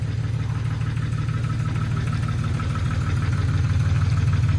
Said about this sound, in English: don't mind the piston slap, that's normal